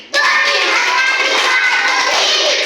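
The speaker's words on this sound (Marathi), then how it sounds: "पाच बोटांची टाळी दोन्ही हाताने वाजवली" Both hands clap in a fast, continuous burst, loud and close, with a voice faintly mixed in.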